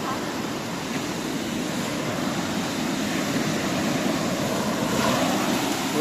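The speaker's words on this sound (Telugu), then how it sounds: "సో ఇప్పుడైతే మనం బీచ్లో అయితే ఉన్నాం" Ocean waves on the beach at Kanyakumari make a continuous broad roar of surf, steady and enveloping, with wind rushing against the microphone.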